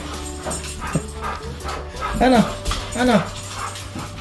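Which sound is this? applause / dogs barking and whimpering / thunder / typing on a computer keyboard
dogs barking and whimpering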